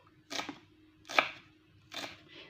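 A knife cuts green onion finely on a board in three separate crisp chopping bursts, close and fairly quiet, with short pauses between them.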